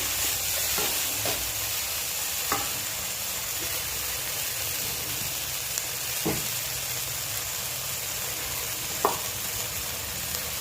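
Turmeric and tomato sizzle in a hot pan with a constant loud hiss, broken by a few sharp scrapes and taps of a spoon as the mixture is stirred.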